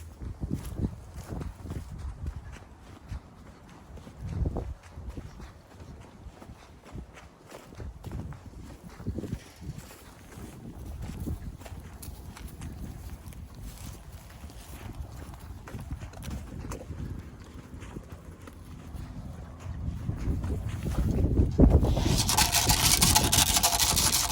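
Hooves of a Dexter heifer clop and shuffle on a farm, walking up into a livestock trailer, with irregular steps and thumps close by and a louder rattling, banging burst near the end as she boards.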